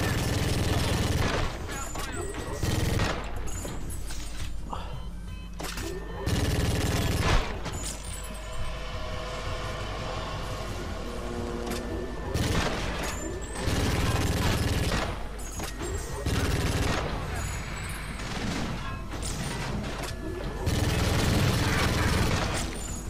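Video game gunfire in GoldenEye: Rogue Agent, with loud repeated bursts of shots and mechanical clatter running throughout over a dense game soundtrack, while a player occasionally talks.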